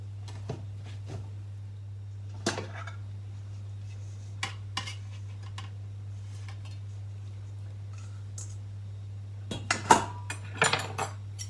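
Two forks scrape and clink against a pan while shredding and stirring pork for sweet shredded pork floss, giving sparse metallic taps that cluster toward the end over a steady low electrical hum.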